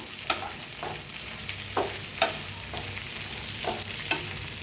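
Cut okra is stirred into lightly fried onion in a pan: a constant sizzle broken by rhythmic spatula scrapes roughly every half second, close and clear, with no voices.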